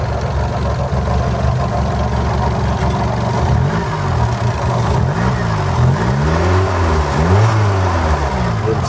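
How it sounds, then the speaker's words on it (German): A 1974 Fiat 124 Spider with a new carburetor runs close by, a steady rumbling idle that rises into several quick throttle blips with swooping revs, loud and continuous without speech. "Sehr schöner Motorlauf."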